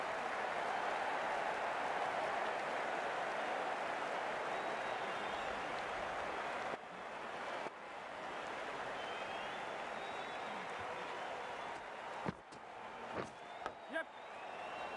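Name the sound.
crowd applauding at a sports match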